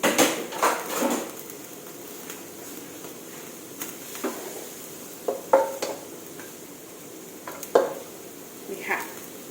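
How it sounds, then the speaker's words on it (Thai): Chilies dry-roasting in a pan while being stirred, with soft sizzling under scattered scrapes and taps of a utensil, close up and moderately quiet. "เราคั่วพริกให้หอมก่อนค่ะ"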